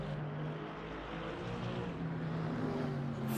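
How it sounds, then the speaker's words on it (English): Loud, steady engine drone from a big, lazy-sounding Mercedes V8 race car in a rainy LMU racing game at Paul Ricard, a continuous thundering roar with low harmonic bands that shift slightly in pitch as it runs. "Thundering noise from the Mercedes"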